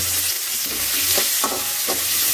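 Finely sliced big onions and curry leaves sauté in hot oil in a pan for a baby jackfruit kuruma, a close, steady sizzle broken by several distinct scraping stirs of a spoon, with no voices.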